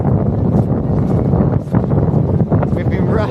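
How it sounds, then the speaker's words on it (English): Strong wind buffets the microphone in a constant low roar near Barmouth Bridge in Wales, with voices faintly audible underneath. "Windy!"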